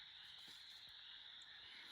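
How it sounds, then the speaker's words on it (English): Frogs in a nearby wetland croaking and trilling outdoors, a faint continuous high chorus with a few soft lower croaks, distant and quiet. "You can hear the frogs croaking and singing right now."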